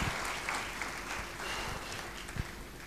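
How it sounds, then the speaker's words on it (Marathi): An audience in a hall claps steadily at a commemorative award ceremony, a sustained, even wash of many hands heard at moderate distance. "टाळ्या वाजवतात."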